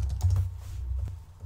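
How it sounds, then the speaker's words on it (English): Fingers tap out a short, rapid run of clicks on a computer keyboard, close and clear, with no voices. "On google.com, type in CCleaner."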